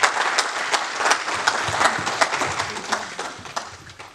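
A congregation claps loudly in a roughly steady rhythm, acclaiming the Lord during a mourning-retreat gathering in Paris; the applause is close and dense, with individual hand claps audible.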